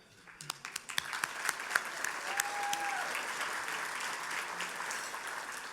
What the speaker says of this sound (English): how about one more round of applause for all of these people?